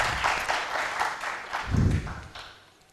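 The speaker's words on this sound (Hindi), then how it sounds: "उसके लिए बहुत सारी तालियाँ" Audience applause at a Pakistani talk show, heard as rhythmic pulsing claps that swell, then ease and fade out over a few seconds, with a low thump partway through.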